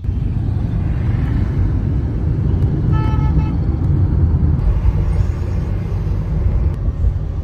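Car driving along a road near Lake Town, a constant close rumble of engine and road noise with a brief horn toot from traffic partway through.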